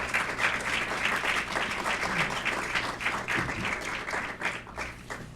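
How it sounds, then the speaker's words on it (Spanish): An audience at a university panel event gives a steady round of applause to welcome invited guests, continuous dense clapping across the whole stretch with a low hum underneath. "Démosle por favor una bienvenida, un aplauso a nuestros invitados."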